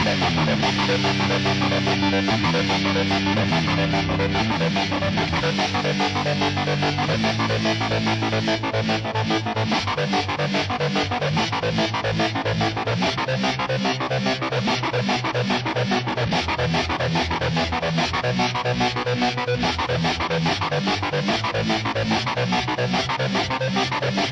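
Dense, distorted synth tones pulse with a rapid, shifting multiband tremolo chop after pre-distortion, from a Source Audio Ultrawave pedal, a continuous loud electronic texture with no voices.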